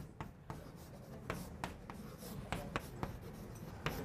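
Chalk or marker writing on a board during a university calculus lecture, a run of quick taps and scratchy strokes in an irregular rhythm, close and moderately quiet over room noise, with no speech.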